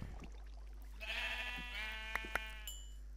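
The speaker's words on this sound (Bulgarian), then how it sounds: "Така, чувам овце." Sheep in the video game Minecraft bleat close by, a wavering quavering baa or two rising over a low steady hum, followed by short clicky game sounds, with no speech.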